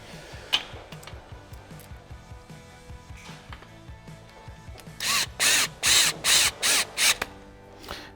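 Power drill driving a screw back into a 2020 Can-Am Maverick X3 during a gusset kit install: faint ratcheting clicks first, then a series of loud, short whirring bursts in quick succession, close by.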